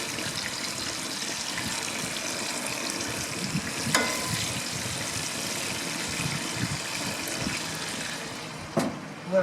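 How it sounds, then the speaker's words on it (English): Steady crackling sizzle of seasoned chicken thighs cooking skin-side on a hot grill, continuous and close, with a couple of brief clatters near the end. "Listen to it sizzle."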